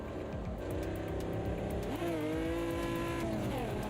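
A race car engine in the racing video game Automobilista 2 snarls and revs through gear changes, loud and continuous, with the pitch climbing and dropping; no one speaks.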